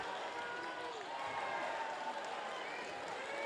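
A high school boys basketball crowd at Laurel Highlands erupts after a made basket, a wide continuous roar of cheering and clapping filling the gym, with an announcer talking over it.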